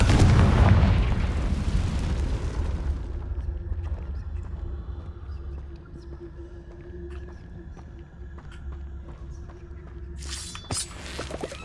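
A loud booming Confringo fire-spell explosion in the Hogwarts Legacy video game, which decays into a low rumble and quiet ambience, followed by a brief sharp burst near the end.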